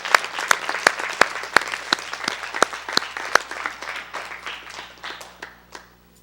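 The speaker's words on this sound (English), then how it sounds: "Give Mr. Yahuwah a hand clap." Hand clapping during a livestreamed religious gathering, a few loud, distinct claps standing out in a rhythmic pattern over a smaller group clapping, fading toward the end.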